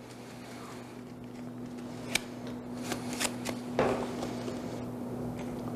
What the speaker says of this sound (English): Check the cards. Shuffle. Mix them. Shuffle. Shuffle.